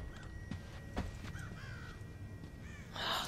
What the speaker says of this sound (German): Was haben die auch diese ganzen Vögel hier?